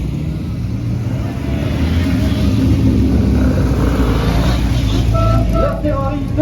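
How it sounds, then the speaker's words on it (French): A 1961 Ferrari 250 GT race car runs on the Pau-Arnos circuit during a classic-car event, a loud, steady engine rumble that holds throughout beneath an announcer's commentary. "La Ferrari 250 GT de 1961, c'est la numéro 160, mesdames et messieurs."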